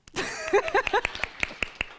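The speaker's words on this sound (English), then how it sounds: "You want to clap?" A few people in an audience at a talk on borderline personality disorder clap sparsely, giving brief, separate claps after a short stretch of murmuring voices.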